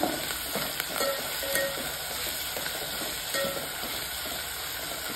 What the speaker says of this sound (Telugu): ఇది కొంచెం పచ్చి వాసన పోయే వరకు ఫ్రై చేసుకోవాలన్నమాట.